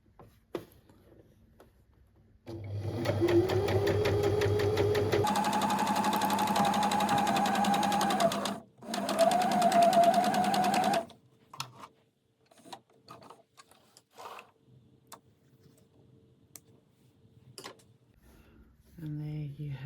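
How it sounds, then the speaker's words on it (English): Close sewing machine stitching a waistband seam, running in two steady buzzing bursts of several seconds each with a brief pause between, followed by quiet handling noises and faint talk. "then you're going to sew this second side"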